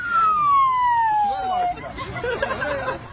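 A voice imitates an ambulance siren by mouth, a long smoothly falling wail, then breaks off into laughter and chatter from people nearby.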